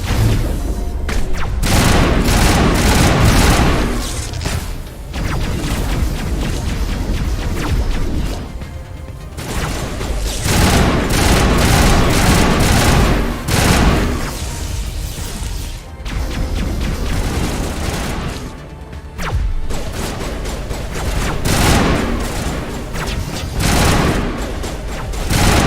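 Dense gunfire from the Mass Effect Legendary Edition video game, with near-continuous loud bursts of weapon fire and impacts. Short gaps break the fire every few seconds.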